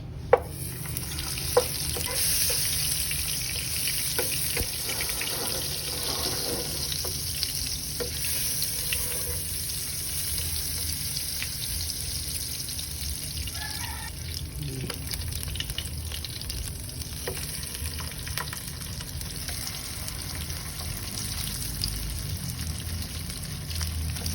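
Toast for a Spam sandwich fries in butter in a pan, giving a close, continuous crackling sizzle that holds steady throughout, with a few faint clicks and scrapes and no talking.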